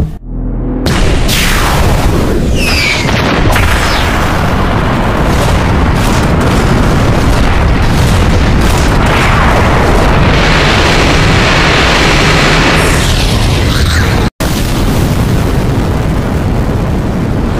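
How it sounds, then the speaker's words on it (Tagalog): A loud explosion from the anime fight of Ging Freecs against Brion, a sharp blast that swells into a long rumbling roar lasting many seconds, with a brief cut near the end. "Mas malakas ang pagsabog na ito kaysa dun sa naunang pagsabog."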